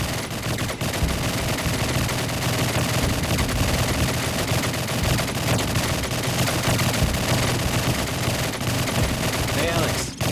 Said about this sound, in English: Sounds like someone's at the shooting range.